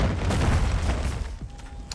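A cruise missile explosion in Call of Duty Modern Warfare 3, a deep, rumbling boom that rolls on for the full two seconds before tapering off.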